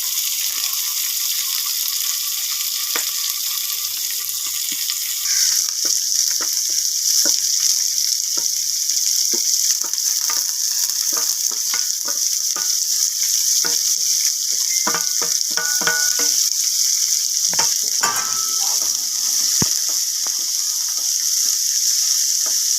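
Green chillies, onion and curry leaves fry in a pan with a loud, bright sizzle that flares up as they go in, broken by crackles, pops and spoon scrapes throughout.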